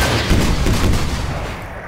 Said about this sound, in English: I want to shoot that.